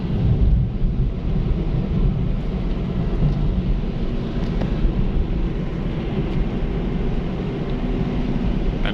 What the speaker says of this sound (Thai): ฝนตกมาก